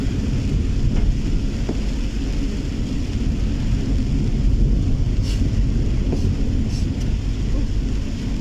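Afternoon rain in Bacolod City, Negros Occidental, a steady dense hiss of rainfall with low rumbling and wind buffeting the microphone, constant throughout with no talk.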